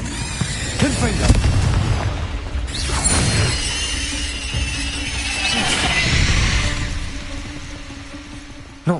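Confringo blasting spell in a Hogwarts video game: two loud bursting blasts with crashing, shattering debris, one near one second and another around three seconds, followed by a rumbling swell and a sharp final hit.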